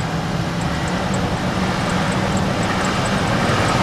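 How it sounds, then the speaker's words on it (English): A warm-up idle with a light rev on a car engine that runs well and barely leaks coolant, a steady loud broadband roar held through the whole stretch with no voices. "Rev it a little bit."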